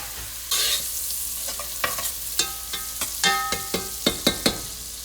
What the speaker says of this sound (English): We are also going to be adding the shiitake mushrooms and slowly rendering them.